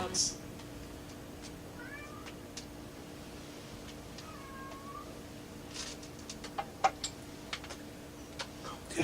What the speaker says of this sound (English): What you are back to hearing there Construx Nunchucks. is not a lobster. It is in fact a cat.